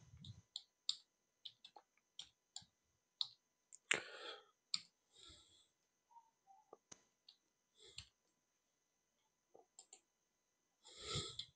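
Computer mouse right-clicks during setup of a new DHCP scope in Active Directory, a string of crisp, faint, close clicks in an uneven rhythm, with brief soft handling noises between them and no talk.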